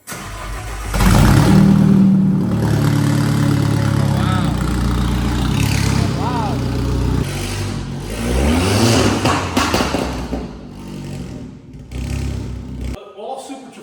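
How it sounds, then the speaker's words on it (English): A Lamborghini Super Trofeo race car runs its starting sequence: the engine fires with a loud crank, settles, then revs up sharply in several rising pulls before dropping back to idle and cutting off, with people talking nearby. "All Super Trofeos have like a starting sequence"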